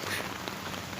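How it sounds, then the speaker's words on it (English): Rain falls on a Vango Banshee 300 tent in a steady soft patter of dense drops, with no voices. "it's raining, you're wet, like what are you supposed to do?"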